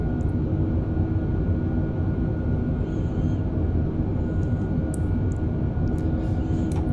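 An airplane engine in the Flight Simulator game drones at a steady level, a continuous low rumble with a few faint clicks above it and no talk.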